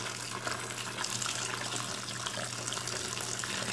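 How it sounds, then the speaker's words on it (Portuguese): Boiling water is poured into a large container while making homemade fabric softener, a steady close rushing gush of liquid that continues unbroken. "Meu filho tá colocando mais 6 litros agora, tá? De água fervente."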